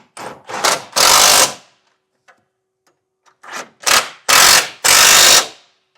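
Tow hook bolts, 24 millimetres, being tightened for a front-mount trailer hitch, loud close bursts of a power tool in two groups separated by a pause, no talk.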